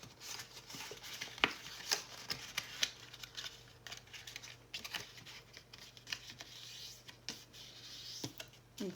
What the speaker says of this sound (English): So on that line, you want to fold up towards the paper again,